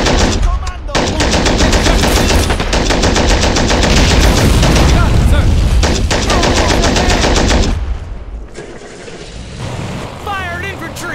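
Sustained loud machine-gun fire in the WWII strategy game Men of War, continuous rapid bursts for several seconds before cutting off, followed by quieter battlefield noise.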